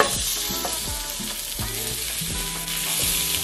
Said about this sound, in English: I so wish you guys could hear more of this searing